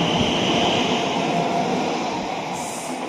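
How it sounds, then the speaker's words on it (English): A passenger train pulls away from Hanwell station on the Great Western Main Line, giving a loud, steady rumble with faint wheel clatter that slowly fades over a few seconds. "departing now is the 10:53 service to Heathrow Terminal 4"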